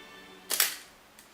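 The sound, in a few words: camera shutter firing, Nikon with Nikkor 55mm macro lens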